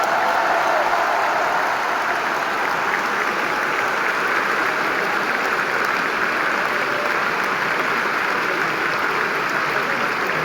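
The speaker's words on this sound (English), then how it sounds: "je pense qu'il mérite des applaudissements" Crowd applause at a French tennis grand slam match, a steady dense wash of clapping that holds for the full stretch with no talk over it.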